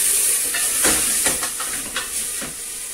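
Onion sautéing in a pan while Bahian-style beans are being cooked, a steady loud hiss of frying with soft stirring scrapes and small crackles rising through it, no voices.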